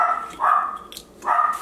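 Two drawn-out puppy barks or howling yelps, separated by a short pause, fairly close and clear.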